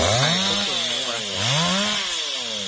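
A saw cuts down a tree outdoors, its engine droning loud and close, with revving pitch that sweeps down and rises again as it bites into the wood, with no talking.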